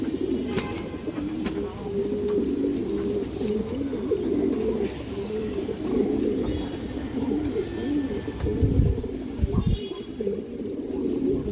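Pigeons at a home loft of Palla-line breeders and flying birds coo continuously in low, throaty, overlapping warbles. The sound is close and persistent, with occasional rustling and knocks underneath.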